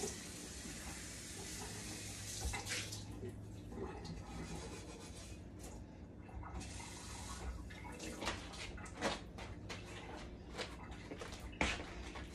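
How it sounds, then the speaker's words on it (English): Pan rinsed under a running kitchen tap, water splashing and hissing continuously with irregular bursts and clatters as the pan is moved and turned beneath the stream. "I'm gonna rinse this off first"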